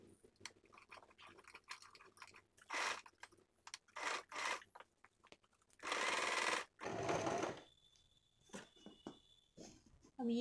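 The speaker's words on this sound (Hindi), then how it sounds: "और फिर इसकी सिलाई शुरू करते हैं।" A sewing machine stitching a blouse piece: several short whirring bursts of stitching, one longer run in the middle, separated by quiet handling and cloth rustles, close and clear.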